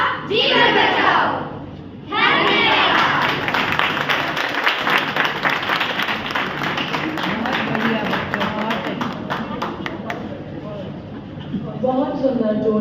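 Loud applause and clapping from an audience at an Inner Wheel Club of Delhi Rohini event, rising after a brief pause and sustained for several seconds with crowd noise and occasional voices mixed in.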